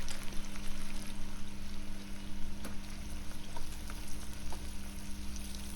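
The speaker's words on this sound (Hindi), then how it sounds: "तेल अच्छे से ले लें, तभी प्याज अच्छे से फ्राई हो पाएगा।" Sliced onions frying in plenty of oil for chicken biryani, giving a steady, moderate bubbling sizzle throughout with a few faint clicks.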